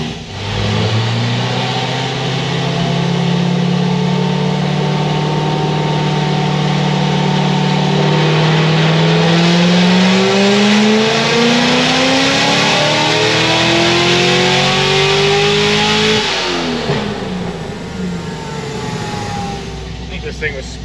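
A Corvette ZR1 with a supercharger on a smaller blower pulley makes a hard pull, its engine tone climbing steadily in pitch over many seconds before dropping off sharply near the end, loud and close.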